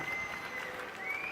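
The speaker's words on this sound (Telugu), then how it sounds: "గట్టిగా చప్పట్లు కొట్టి అభినందించండి" A crowd at a public meeting addressed by Chief Minister Chandrababu Naidu applauds in a sustained, even patter of many hands that sounds somewhat distant and soft, with no voices over it.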